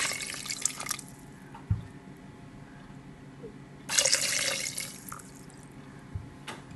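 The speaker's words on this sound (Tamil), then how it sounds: "இந்த டைமில் நம்மளுக்கு தேவையான அளவு தண்ணி நம்ம இதில் ஊற்றிக்கலாம்" Water trickles and splashes in short bursts into a cooking pot for mutton soup, with a louder rushing pour near the middle, close by and without any talking.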